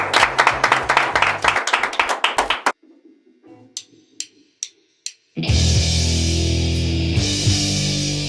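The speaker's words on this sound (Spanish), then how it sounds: "Un aplauso." An audience claps at a live music show, a brisk burst of hand claps that fades into a few scattered claps before loud music starts.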